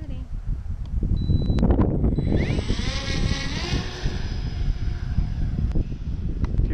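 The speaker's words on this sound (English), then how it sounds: "That's the wind, dude." A P-38 model aircraft on a flightline hums like a propeller engine, whining higher as it builds, while heavy wind gusts buffet the microphone. Several people talk loudly over it.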